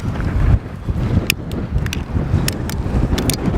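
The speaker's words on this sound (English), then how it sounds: "picking up a lot of wind. It's very windy." Strong wind blows across open ground in the ghost town of Girvin, Texas, as a steady, close, rumbling roar that buffets the microphone, with a few faint clicks on top.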